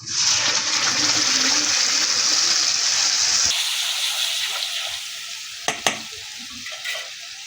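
Spices hit onions already browned in a pan, giving a loud steady sizzle and crackle that fades to a softer fry partway through, with a couple of sharp clinks near the end.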